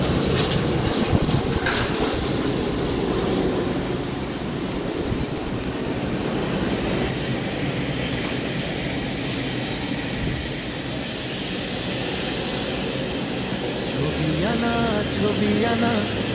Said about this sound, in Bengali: এটা এট লাস্ট একটা ইয়ার কার্গো ল্যান্ডিং করতেছে ঢাকা।